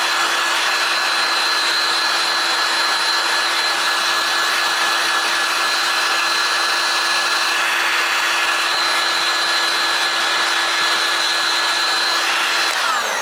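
A heat gun blows hot air continuously and loudly onto an object being warmed, a steady whooshing roar with a constant motor whine holding evenly for the full stretch with no pauses.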